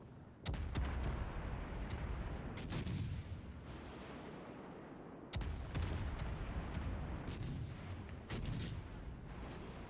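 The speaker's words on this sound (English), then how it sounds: "why the hell am I shooting HE again?" Warship guns in World of Warships Legends firing high-explosive shells: heavy booming salvos land at intervals, each a sharp crack that decays into a rumbling roar, loud and close with no speech.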